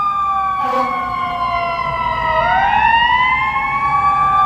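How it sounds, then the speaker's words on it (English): A Chicago fire engine siren wails past on a city street at Grand and Dearborn, its pitch sweeping down and then rising again, loud and close over steady traffic rumble. "Chicago Fire engine head through Grand and Dearborn Street, Chicago, Illinois."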